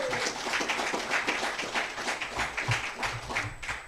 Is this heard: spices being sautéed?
no